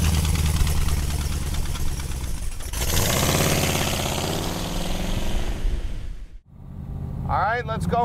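A 1969 Chevrolet Camaro convertible with a numbers-matching big block engine, an Indy 500 Pace Car, runs with a loud, steady rumble that swells before cutting briefly near the end, with voices heard.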